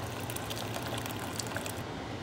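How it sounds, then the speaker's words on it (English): Hot water poured into a cooking pot for lupin beans, a steady close, dense rushing splash lasting a couple of seconds with no voices. "now I'm adding 2 cups of water, hot water,"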